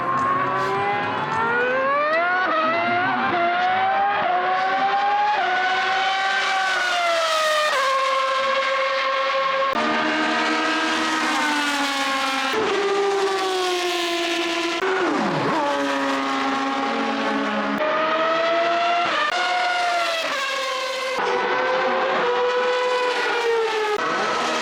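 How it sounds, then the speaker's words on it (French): Historic Formula 1 single-seaters over 2 litres, from makers such as Ferrari, Lotus and March, scream past at a historic grand prix, with high-pitched engines rising and falling through gear changes for a sustained stretch. "on a pu retrouver des monoplaces, cette fois-ci supérieures à 2 litres, avec cette fois-ci des Formule 1."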